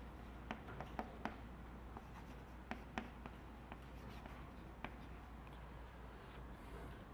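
Writing on a board during a calculus lecture, a faint, continuous scratching broken by light taps and clicks as strokes start and stop, with no voice over it.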